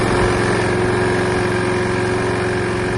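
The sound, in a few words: repaired Hayter Harriet 41 lawnmower engine running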